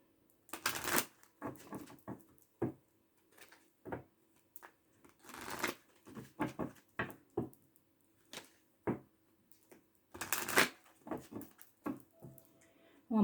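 Tarot cards are shuffled by hand in quiet, uneven bursts of riffling and soft slaps, with brief pauses between them.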